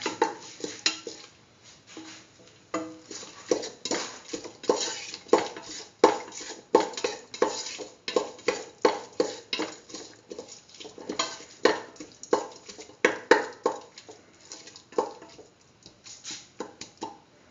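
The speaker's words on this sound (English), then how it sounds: "Thoroughly mix in the chili powder." A spoon stirs chili powder into a cooking pot with a potato, tomato and coconut-milk rice dish, giving a rapid run of sharp metallic scrapes and clinks at an irregular rhythm, close and clear, with no voices.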